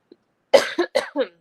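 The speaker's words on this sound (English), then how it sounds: "I keep coughing" Several sharp coughs in a quick row, close and fairly loud, following a faint tiny click in near silence.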